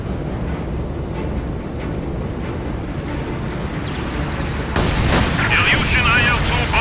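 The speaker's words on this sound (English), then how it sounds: "Incendiary artillery barrage to target." An incendiary artillery barrage in a video game rumbles as a continuous low roar that swells abruptly partway through into louder crackling, hissing bursts, with in-game voice chatter underneath.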